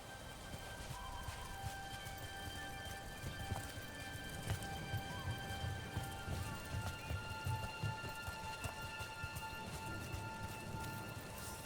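Steady rainfall in the video game Dragon Age: The Veilguard, a soft, continuous patter and hiss with scattered drip taps, heard at a low, even level throughout.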